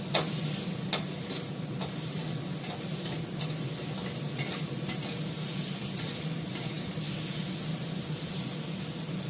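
Vegetables being lightly fried to a reddish colour in a pan before greens go in, with a steady broad sizzle and irregular stirring scrapes and clicks throughout, close and moderately loud, no voices.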